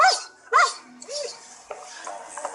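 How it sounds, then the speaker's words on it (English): A trained lie-detection dog barks sharply twice in quick succession, then gives a shorter yip, loud and close, followed by quieter background noise in a dramatic film scene. "It's a lie detection dog."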